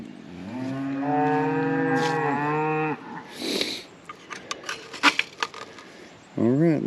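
A cow lets out a long, loud moo up close, followed by wooden knocks and clatter, then another moo begins.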